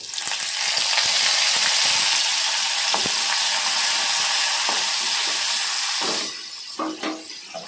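Mustard seeds and curry leaves sizzle and pop in hot oil in a pan for rava upma, a loud continuous frying hiss that drops away near the end into scattered crackles.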